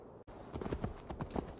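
Horse hooves clip-clop at a walking pace in Assassin's Creed Valhalla, a steady run of soft, close hoof strikes after a brief sharp cut.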